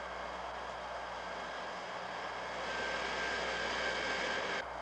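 A B-52 bomber's jet engines on a bombing run produce a steady, distant broadband roar that holds evenly and swells slightly before cutting off.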